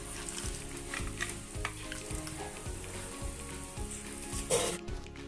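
Cashews fry in hot oil in a pan, giving a constant soft sizzle with rhythmic scraping as they are stirred, faint and close.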